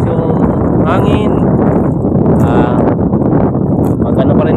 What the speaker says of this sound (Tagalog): Kahit ganito yung malakas yung hangin